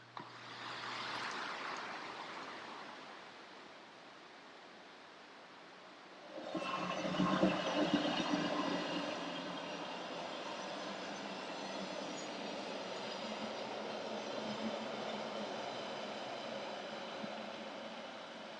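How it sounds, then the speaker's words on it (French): Red Rhaetian Railway trains running near Bergün in the Swiss mountains: a faint rumble gives way to a train passing close by, with a sustained rolling roar, rattling wheels and metallic squeal that persists steadily. "Le spectacle des trains rouges continue. Il y a 4 trains par heure sur cette portion de ligne."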